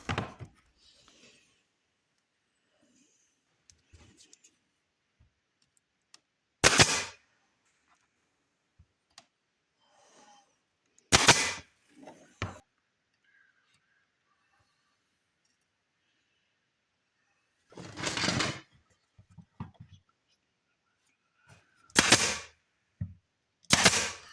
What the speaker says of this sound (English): Pin nails. I love the little nailer.